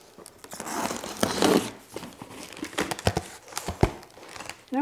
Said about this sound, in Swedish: Nu har jag fått lös tejp.